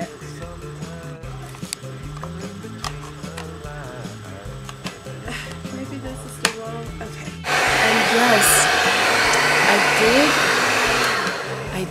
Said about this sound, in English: I'm gonna dry my hair a bit.